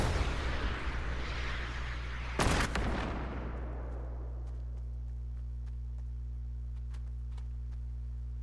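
Gunfire in Fortnite during a solo match, a dense loud volley of shots that cuts off after a few seconds, leaving a steady low hum with faint scattered clicks.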